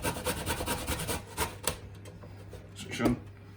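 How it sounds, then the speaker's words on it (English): Fresh ginger is rubbed against a grater in quick, rhythmic rasping strokes, close and fairly loud, followed by a few scattered scrapes and taps. "Your ginger, you just want to grate this up quite finely."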